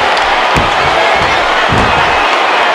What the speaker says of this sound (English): Listen to this crowd. They can feel the power of the warrior being unleashed.